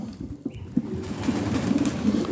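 Pigeons cooing at a pigeon auction, soft repeated low coos from nearby birds over quiet background noise.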